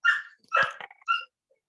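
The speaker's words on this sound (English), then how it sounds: "dog's barking outside my office" A dog barks outside an office, three short, close yappy barks with brief gaps in between, then quiet.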